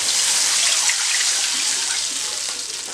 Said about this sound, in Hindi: इसमें पानी डाल दें।